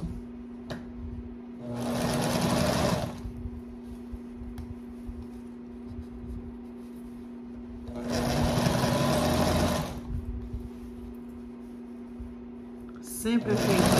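Sewing machine stitching a water jug cover, with two bursts of steady rapid stitching about two seconds each separated by quieter pauses, close by, and a constant low hum throughout plus a short start at the end.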